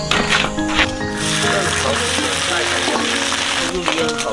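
Chopped lettuce stir-fried in a wok, a continuous close sizzle with scraping spatula strokes, under people talking.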